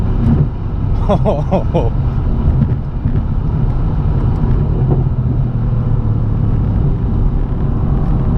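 Loud, close engine roar of a 2017 Mercedes C63 AMG S Coupe or 2017 BMW M3 Competition Package under constant load on a straightaway, a droning rumble that holds steady throughout, with brief chirps early on.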